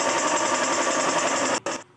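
A combine harvester's engine runs steadily with a dense, buzzing mechanical drone, then cuts off abruptly near the end, leaving a brief, quieter tail.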